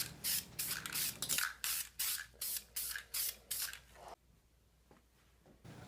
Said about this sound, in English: Spray these pieces flat black.